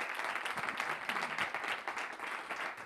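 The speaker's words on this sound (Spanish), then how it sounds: "fuerte el aplauso" Audience applause after a radio director is introduced at a special presentation of a radio programme's compilation CD, a steady dense wash of many hands clapping for about three seconds, fairly quiet with no talk over it.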